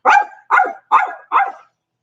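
Four sharp dog barks in a steady rhythm, loud and close, each about a quarter second long, then quiet.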